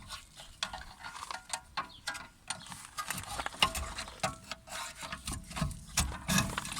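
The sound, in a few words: brake caliper being pried off a VW Passat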